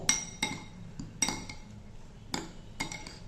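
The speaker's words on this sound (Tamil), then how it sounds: "எல்லாத்தையும் நல்லா மிக்ஸ் பண்ணிக்கிடுவோம்." A spoon clinks against a bowl while spices are mixed into an onion-tomato filling for a sandwich, giving about six sharp metallic taps at an uneven pace over a quiet background.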